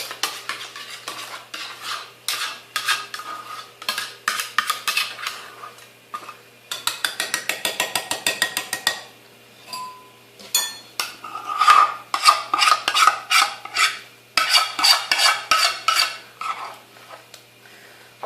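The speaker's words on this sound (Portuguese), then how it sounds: "Com a ajuda de uma colher, vamos espalhar." A spoon scraping and tapping as it spreads a homemade kitchen polymer plastic mixture thinly in a container, with irregular bursts of close, clicky scraping strokes separated by short pauses, no talk.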